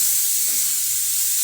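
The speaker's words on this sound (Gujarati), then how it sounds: "હવે આપણે તેને હલાવીને મિક્સ કરી લઈશું." Carrot and cabbage for Manchurian sizzle steadily in a pan while being stirred, a loud continuous bright hiss with faint low scraping underneath and no talking.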